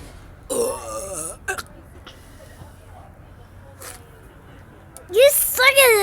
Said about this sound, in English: I'm doing burping, and I'm not gonna puke today, but I'm gonna burp.